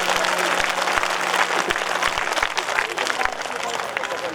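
An audience at a Ram Katha religious discourse in Deoria claps steadily. The dense applause runs loud and continuous from start to end, with scattered individual claps standing out and voices mixed in.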